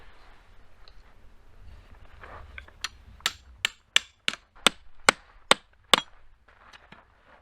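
A hammer drives metal tent stakes into the ground to anchor the tie-downs of a Clam pop-up shelter, landing about eight sharp, evenly spaced strikes close by against quiet outdoor background.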